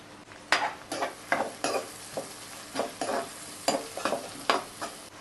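Onions, green chilies and curry leaves frying in hot oil, a steady close sizzle broken by repeated sharp bursts of stirring scrapes in the pan.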